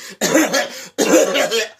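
Two harsh, bursting coughs in quick succession, close and loud, each a rough fit lasting most of a second with a short pause between.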